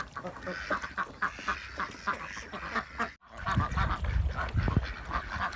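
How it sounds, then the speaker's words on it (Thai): Ducks, including two-month-old ducklings, quack and honk repeatedly in a busy, close chorus, with a brief silent gap partway through before the calls resume louder. "เดี๋ยวเราจะให้ดูเป็ดอายุ 2 เดือนนะคะ"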